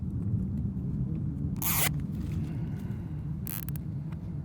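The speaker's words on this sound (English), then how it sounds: "Pull your zip tie tight." Zip ties are pulled tight on an electric fence: two short, sharp ratcheting zips, one near the middle and one toward the end, over a low steady outdoor rumble.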